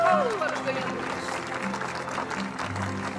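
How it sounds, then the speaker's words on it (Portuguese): Audience applause for award winners at an awards ceremony, a steady broadband clatter of clapping lasting the whole moment, with music and other sounds underneath. "Uma salva de palmas para os ganhadores."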